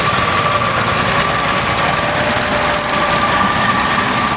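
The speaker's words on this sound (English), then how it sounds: "you got your little garden tractor there" A small garden tractor engine runs at a steady, buzzing idle at a summer tractor show in South Dakota, loud and close without pause.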